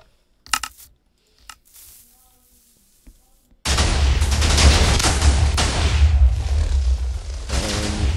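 A TNT cannon in a video game fires: a few sharp clicks and pops, then a dense, loud, continuous roar of rapid explosions that holds steady for several seconds.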